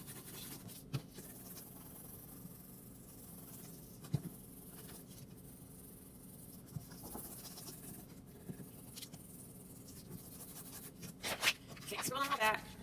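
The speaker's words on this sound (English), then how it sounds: "We're going to trace our drawing and it will transfer the graphite pencil onto your" A graphite pencil tracing a drawing onto scratch board, giving quiet, continuous scratchy strokes with occasional taps, growing busier and more rapid near the end.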